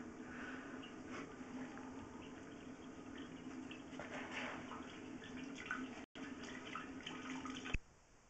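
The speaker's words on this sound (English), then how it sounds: "Now we just did a toilet flush there." Toilet flush water rushing through a long residential sewer line, a steady hollow flowing wash heard from inside the pipe, continuous for several seconds with a brief dropout near the end.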